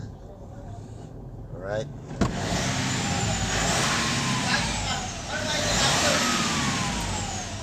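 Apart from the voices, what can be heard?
Mitsubishi Montero Sport engine being started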